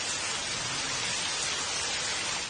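A passing rain shower falls steadily, a dense, even hiss of drops on surfaces that holds at a constant level throughout with no voices.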